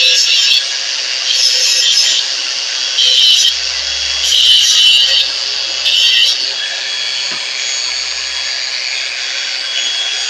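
An Ingco battery-powered angle grinder whines at full speed while cutting, a steady high-pitched hum broken by several short rasping grinding bursts, close and fairly loud with no talk over it.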